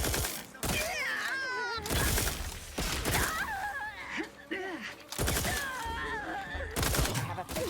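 Sharp bursts of gunfire in the video game The Outer Worlds 2, arriving in several loud volleys between pauses, mixed with groans, whistling effects and game voices.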